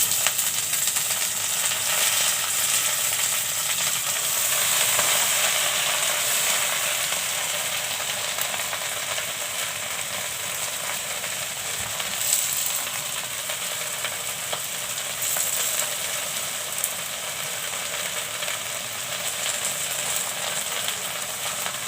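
Red amaranth greens hiss and crackle steadily as they fry in a hot pan, a continuous close broadband sizzle that holds without pause and eases a little midway.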